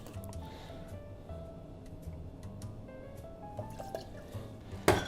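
Bailey's Irish Cream trickles into a cocktail glass with soft, low liquid dribbling and faint drips, quiet and close, ending in a brief louder clink of glass.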